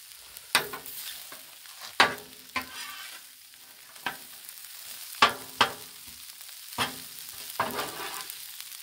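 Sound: stirring red beans and rice on a Blackstone griddle

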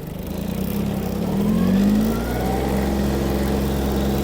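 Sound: mini tractor accelerating

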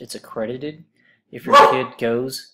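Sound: dog barking

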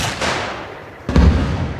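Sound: rocket launcher shot, video game

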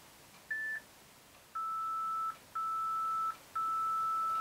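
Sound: workout timer beep

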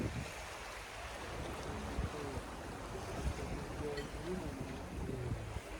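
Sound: waves on a beach in Pattaya, Thailand

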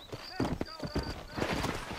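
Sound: spurred horse galloping in video game Red Dead Redemption

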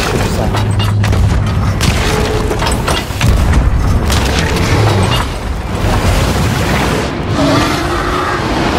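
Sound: cannon firing players out, from the video game Sea of Thieves

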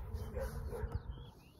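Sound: dogs barking behind the camera

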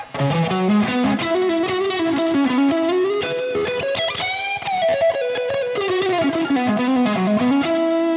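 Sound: Ibanez AZES40 electric guitar, distorted tone on upper pickup

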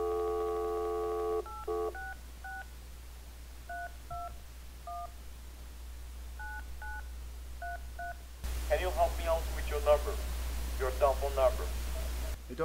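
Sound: telephone dialing tones on a landline

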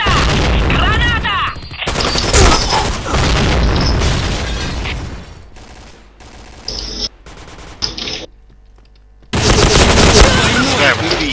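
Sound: grenade explosions and gunfire in the video game Point Blank

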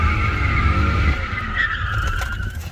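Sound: BMW 325ci manual car tires skidding doing donuts

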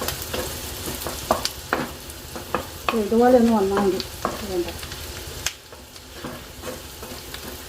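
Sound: onions frying in a pan for fried rice

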